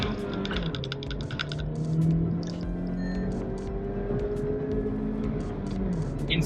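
A 2021 Skoda Kushaq 1.5 TSI with manual gearbox pulling away in first gear, its engine note rising steadily from inside the cabin as it builds revs, with some clicking and road noise but no voices.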